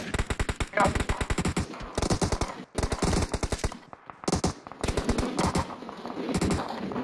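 Rapid automatic gunfire in the PUBG video game, loud bursts of fast repeated shots broken by brief pauses, with a voice talking faintly underneath.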